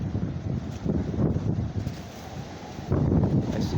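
Strong wind gusting around a backyard shed with metal panels, a steady loud broadband rush that swells again near the end, with no talking.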